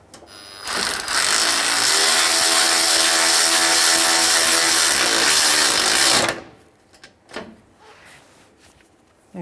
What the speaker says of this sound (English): So what we're going to do is thread in one of our bolts.